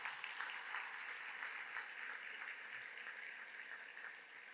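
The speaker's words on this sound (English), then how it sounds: "Now we can have a round of applause for our head table." A convention-hall audience at a city State of the City event gives the head table a round of applause, a steady wash of clapping that fades slightly toward the end.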